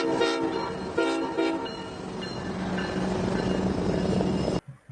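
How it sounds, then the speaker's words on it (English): A freight train carrying Army tanks rolls into Washington, D.C., its horn sounding loud and tonal over the heavy rumble of the railcars, then the sound cuts off abruptly. "Those are Army tanks arriving into Washington, D.C. via freight train"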